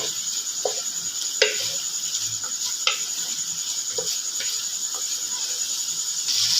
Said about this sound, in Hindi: एक मिनट मैंने चिकन को फ्राई कर लिया है।